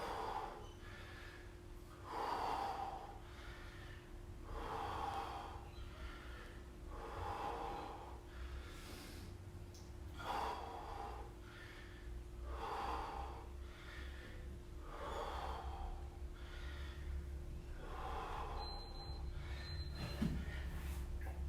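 Steady rhythmic breathing during a yoga workout, about eight slow breaths, each inhale and exhale clearly audible and close, with a faint steady hum underneath and no talking.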